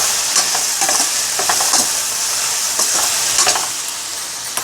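Gongura curry in Andhra style frying in a pan, a steady loud sizzle with intermittent stirring scrapes and crackles throughout, no voices.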